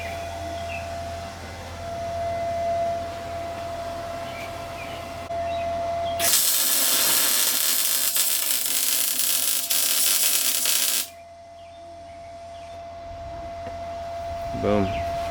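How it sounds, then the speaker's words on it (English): Tack welding an axle bracket for a Panhard bar during a 4-link kit install, heard as one loud, steady crackling hiss lasting about five seconds, set against a low shop hum with quieter noises before and after. "So yeah, he's gonna start tacking now."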